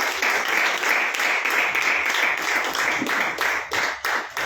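A church congregation at a Good Friday service claps to welcome Sister Ruth, a full and even wash of many hands that holds steady before dipping and easing near the close.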